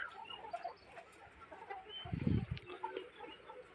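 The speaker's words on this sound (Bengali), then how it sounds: "এই যে আমাদের মুরগিগুলা" Layer hens cluck softly and steadily in a cage, with a louder burst of rustling or flapping partway through.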